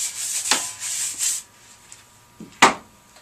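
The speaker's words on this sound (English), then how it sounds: "Now, I'm going to take my scrub brush and just dust off anything that's left over." A scrub brush rubs and dusts off the handle of a long-handled garden tool in a few short, close, bristly strokes with soft scuffs between them.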